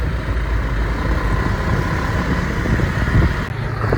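Continuous low drone of a motorcycle engine while riding, held at a steady pitch and loud under a steady wind roar, with no speech.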